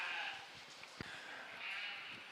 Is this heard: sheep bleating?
yes